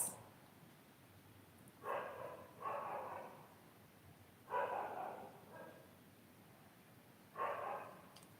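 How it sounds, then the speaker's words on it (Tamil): A street dog barks four times at a distance, single and double bursts separated by quiet pauses, with a faint outdoor hum underneath. "எங்கள் தெருவில் இந்த நாய் எந்திரிச்சதுலேருந்து தூங்குற வரைக்கும் குழச்சிக்கிட்டே இருக்கு"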